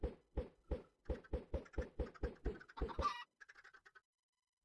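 A Minecraft chicken clucks in a rapid, evenly spaced series of about a dozen short clucks, close and clear, ending in a brief squawk and softer flutter before silence.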